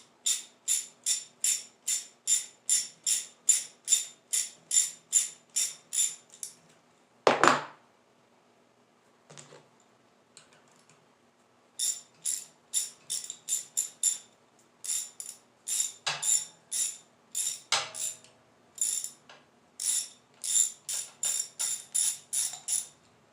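A ratcheting tool worked in rapid, even clicking strokes during a Honda 450 motorcycle engine teardown, close and loud, broken by a clunk and a pause before the clicking resumes.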